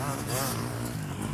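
An enduro motorcycle accelerates with a steady, mid-pitched engine roar close by, partly masked by a voice talking over it.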